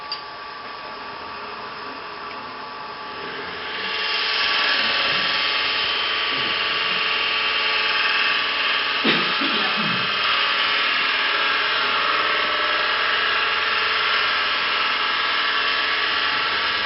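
A drill press with a sharp Forstner bit bores a 5/8-inch-diameter hole 1 5/8 inches deep into wood for a birdhouse ornament, a steady motor whine rising loudly after a few seconds and continuing evenly.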